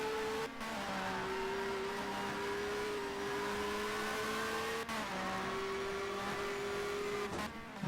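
British Touring Car Championship cars, including a Peugeot, race down the straight at Silverstone GP in 1996, with a loud, sustained engine whine rising in pitch and brief gear-change dips breaking it up three times.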